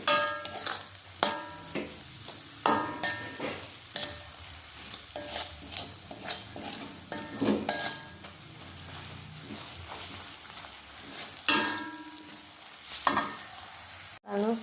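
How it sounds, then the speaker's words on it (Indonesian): Kerecek ingredients frying in a pan are stirred repeatedly, with utensil scrapes and clanks over a steady close sizzle, no voices. "Aduk sampai warnanya berubah menjadi kecoklatan, sampai matang ya diaduknya."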